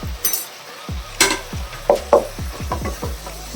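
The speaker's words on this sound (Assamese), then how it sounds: "এইখিনি মই ভালকৈ আকৌ লৰাই দিম।" A spoon stirs chopped almonds, cashews and raisins into carrot halwa in a pan, with a few scraping strokes and metallic clinks over a soft low sizzle.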